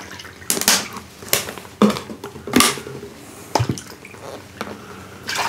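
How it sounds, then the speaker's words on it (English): Water splashes and trickles into a pot in several short bursts, with clinks and clatters of kitchenware between pours. "we were going to add 3 cups of water"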